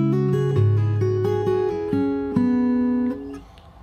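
Fingerstyle guitar plays the next bar of a song, several plucked notes over a ringing low chord, steady and close, then decaying to quiet.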